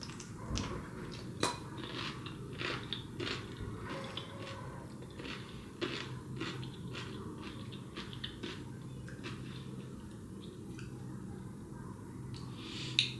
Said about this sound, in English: Got a good bite to it, a good pickly bite. It still has some crunch